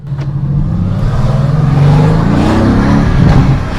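A Mercedes GT S engine revs loudly and steadily up close, its deep roar swelling and easing for a few seconds with no talking.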